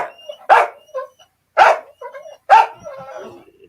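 A dog barks indoors in three sharp, loud barks spaced about a second apart, each followed by softer yips and whimpering sounds, with quiet gaps between.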